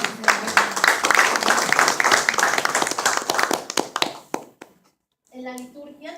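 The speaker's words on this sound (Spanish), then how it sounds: "Un aplauso" Lively applause at a church prayer ministry meeting, a few seconds of close, brisk clapping with a couple of sharp claps as it tapers, followed by a brief pause and a voice speaking.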